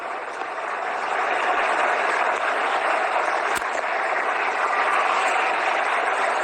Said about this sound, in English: And the crowd asking for more from Dhoni.